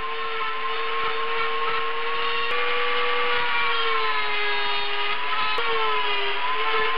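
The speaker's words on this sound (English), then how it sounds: "the final polish and adjustments will be done with these sanding rolls" Sanding rolls polish the ported rotor housing of a 1976 Mazda RX-5 Cosmo rotary engine, producing a steady, loud, continuous high-speed grinding whine with a sustained tonal drone.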